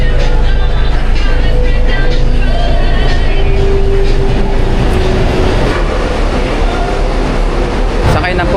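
Steady, loud rumble of a moving van on the road toward Lemery, Batangas, a constant engine and road drone with rattles, and people talking faintly under it.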